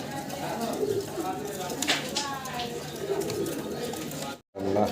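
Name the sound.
pigeons cooing, Indian Bombai pigeons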